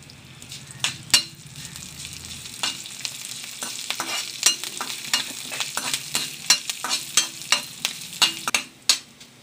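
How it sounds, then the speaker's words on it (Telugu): Curry leaves and tempering spices sputter and sizzle in hot oil in a small pan, a steady close crackle broken by sharp pops and occasional stirring knocks, with no voices. "ఇప్పుడు ఇందులో మనం కరివేపాకును కూడా మనం వేసుకొని దాన్ని కూడా మనం వేయించుకుందాం"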